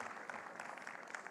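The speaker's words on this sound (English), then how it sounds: "Have a round of applause for him as well" Applause at an annual excellence awards ceremony, a brief, faint, steady patter of many hands clapping with a murmur of voices underneath.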